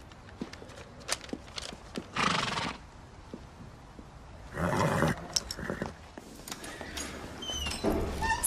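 A horse snorts and neighs loudly several times, with scattered hoof clops and shuffling movement in between.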